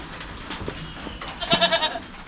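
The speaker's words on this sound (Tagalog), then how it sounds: "Yung mga kambing natin, oh." Goats on a small farm, seeming chilled, bleat in a few close, wavering pulses that rise near the end over a quiet outdoor background.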